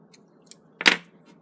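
Scissors give a single crisp snip through sewing thread, close and clear, with a couple of faint clicks before it and no talking.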